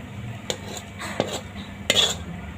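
Food with fragrant tree basil leaves being spooned onto a serving plate, giving a few sharp, close clinks of utensil against dish spread over a couple of seconds, with no talk.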